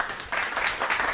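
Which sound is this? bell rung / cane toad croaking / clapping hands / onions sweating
clapping hands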